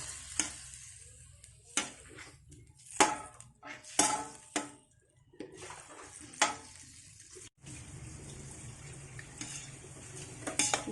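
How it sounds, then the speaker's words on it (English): Pork meat cooking in a pan for spaghetti sauce, with a soft steady sizzle broken by repeated clinks and scrapes of a utensil stirring against the pan. "Now let's just wait until the pork meat is cooked to add our spaghetti sauce."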